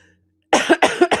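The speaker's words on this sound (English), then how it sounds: "Sorry about the coughing." Three loud, harsh coughs in quick succession, close to the listener, following a moment of near silence.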